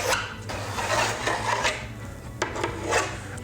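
A plastic scraper rasps wax off a snowboard base in a run of short, close strokes, the scraping loud and steady with brief pauses between passes.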